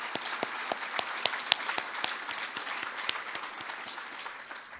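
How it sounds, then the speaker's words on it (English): Audience applause fills a hall at a college president's address, a steady crowd clapping with dense, sharp hand claps that keeps a fairly even level for several seconds before easing slightly toward the end. "That is worth clapping for sure."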